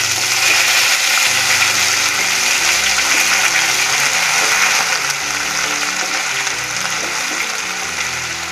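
A kitchen mixer grinder runs continuously, a loud steady whirring drone, as it grinds garlic, ginger and pepper into a paste for a Kottayam-style fish curry.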